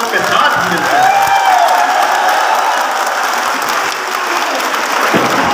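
A large crowd at a political gathering of striking contract workers claps steadily in welcome for a speaker, loud continuous applause with some cheering and voices mixed in.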